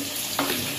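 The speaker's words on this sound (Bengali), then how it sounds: "আর এই মাছের তেলটা ভাজা করব।" Fish fat frying in a pan, a brief, soft, even sizzle with one small scrape midway, heard close and alone.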